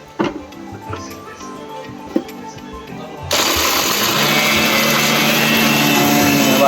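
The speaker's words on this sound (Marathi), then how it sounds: "आता हे मखना घेतलेलं आहे मिक्सरमध्ये ग्राइंडर करायला." A kitchen mixer grinder crushing makhana (fox nuts) for gum laddoos starts abruptly partway through, a loud steady whirring grind that continues to the end after a few quieter clicks and knocks.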